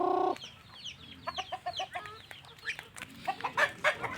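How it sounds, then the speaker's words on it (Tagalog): Native chickens clucking close by in a backyard coop, a string of short, irregular clucks and chirps that follows a brief burst of louder noise at the start. "Native chicken ko, malaki na sila."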